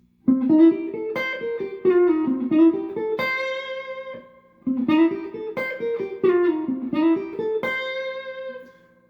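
A clean electric guitar plays a quick run of single notes up and down a mixed major and minor pentatonic scale, twice, with short pauses between phrases.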